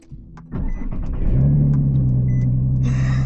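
A flipped car is cranked and started for its first test drive after a rebuild with new intakes fitted; a sharp catch is followed by a loud, close engine settling into a steady, deep idle.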